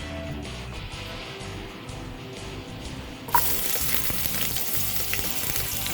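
Aromatics and pork ribs sauté in a pan for Ilocano-style boiled ribs, a steady close frying hiss that jumps louder and brighter partway through as more goes in, with no talk.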